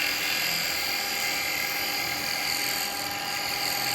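Carbide chisel taking a fine finishing cut on a wood lathe while hollowing, a steady high-pitched whine with scraping hiss that holds constant throughout, close and fairly loud, with no talk.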